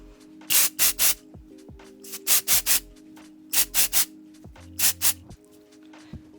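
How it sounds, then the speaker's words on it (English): Several short bursts of hairspray from an aerosol can hiss in quick groups of two or three, close and fairly loud, with brief pauses and faint handling noise between. "I'm just gonna give this a shake and spray about 10 inches away"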